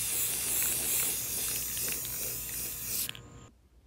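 Spray paint going onto a cork board for a second coat: a close, steady hiss for about three seconds that cuts off abruptly, followed by a faint tail and quiet.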